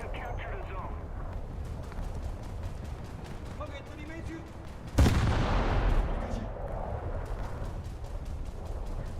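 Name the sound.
naval gunfire from turrets firing HE shells, from a video game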